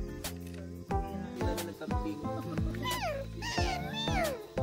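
A cat meows several times in rising, wavering calls at a camping site in Tupi, South Cotabato, heard amid other nearby noises and a person's voice.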